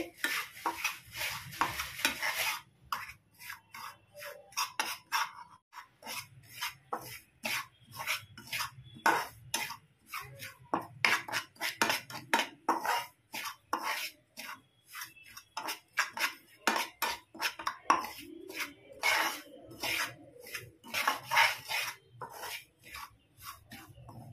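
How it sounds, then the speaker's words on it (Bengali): Semolina dry-fried lightly on low heat, with a spoon scraping and stirring it in a pan in steady, repeated close strokes and a faint sizzle underneath; no talking. "আমি 2 মিনিট হালকা ভেজে নিচ্ছি"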